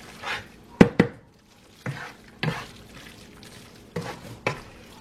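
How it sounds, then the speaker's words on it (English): A spoon scrapes and clacks against a pan while stirring a bacon dish, in several separate bursts with quiet gaps between them and a faint sizzle underneath. "I'm going to stir this up really well."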